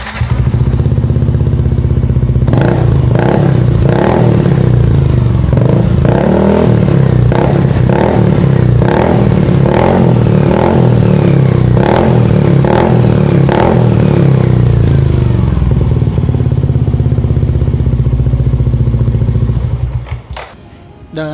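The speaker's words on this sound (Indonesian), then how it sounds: "Sekarang kita akan tes pemakaian DB Killer di dalam ruangan." A Yamaha NMAX scooter fitted with a Daytona exhaust and dB killer revs indoors, a loud, sustained engine drone with repeated sharp throttle blips echoing in the room before it cuts off near the end.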